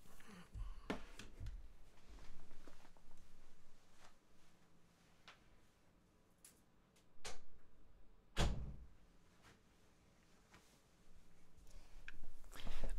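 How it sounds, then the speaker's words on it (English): A room door is pushed shut with one sharp, fairly close thunk, set among quieter shuffles and small knocks in an otherwise still room. "I'm going to shut this door real quick."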